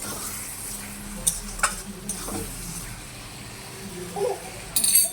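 Mutton with spices fries in a pan, the gentle sizzle broken by a few sharp spoon scrapes and clinks of utensils against the pan, without speech.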